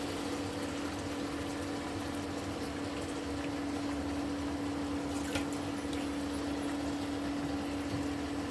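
Water pours from a jar into a pot of simmering chicken soup, a steady, soft liquid rush with a low constant hum underneath, faint and continuous throughout.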